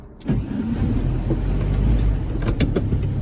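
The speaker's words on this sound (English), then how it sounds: "let's go for a quick yard drive and just see how things feel" A VW Beetle with a freshly adjusted clutch rolls through a yard, its mid-pitched engine droning steadily close by with a couple of brief revs near the end; no one speaks.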